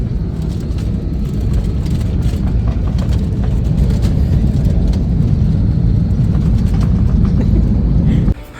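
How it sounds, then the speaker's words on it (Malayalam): Steady loud cabin roar of an airplane engine in flight as it descends toward landing at Bangalore, constant low rumble throughout that cuts off abruptly near the end. "കുറച്ച് നേരത്തെ യാത്രയ്ക്ക് ശേഷം ഞങ്ങൾ ലാൻഡ് ചെയ്യാൻ പോകട്ടോ ബാംഗ്ലൂരിൽ"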